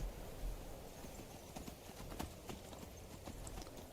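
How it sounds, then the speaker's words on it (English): Horse hooves clip-clop across ground in Skyrim, a soft, fairly distant, irregular patter of hoofbeats over a busy, low background wash. "Oh, horse."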